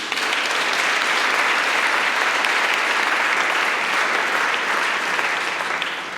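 Steady, dense applause from a large audience at a youth prize award ceremony in Aachen, loud and sustained without a break for about six seconds, with no talking over it.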